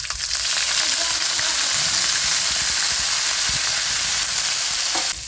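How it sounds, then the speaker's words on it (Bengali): Chilli, garlic, cumin and mustard flowers frying in hot oil, a loud, dense, continuous sizzle close by with occasional stirring clicks, cutting off just before the end. "বন্ধুরা সর্ষের ফুলটা ভাজা হয়ে গেছে"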